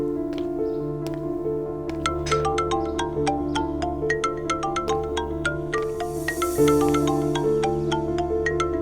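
A phone ringtone plays a steady melodic pattern of bright, repeating chiming notes over a sustained background tone, continuous and fairly loud for the whole stretch, with no voices.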